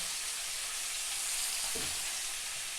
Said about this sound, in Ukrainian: Робимо огонь мінімальний, додаємо два шматки масла